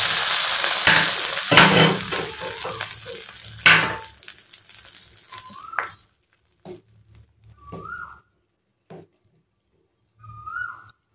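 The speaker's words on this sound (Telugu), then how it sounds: "మనం వేపించుకున్నాం కదా జీడిపప్పులు, అవి కూడా వేసేసుకోవాలి" Fried cashews drop into hot sago payasam with a few crackling sizzles and stirring scrapes, then the cooking fades to near silence while birds chirp sporadically in the background.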